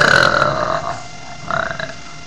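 A single person burps loudly and close up, one long drawn-out belch followed by a shorter second burst after a brief pause.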